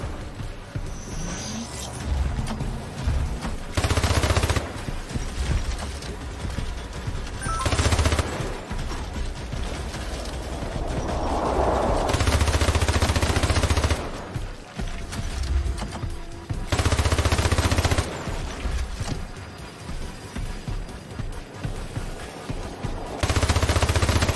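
Turret gunfire in a Toy Story video game, rapid machine-gun bursts repeating in loud regular blasts with brief pauses between, over a constant game soundscape.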